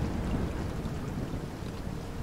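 Deep, steady thunder rumbles through a stormy scene in Proton Bus Simulator with a LAZ 695N bus, a continuous low roll that stays fairly even across the whole stretch, with no voices.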